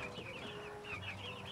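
Backyard meat chickens in Cebu cluck in short, soft, repeated calls, faint and close, with no talk.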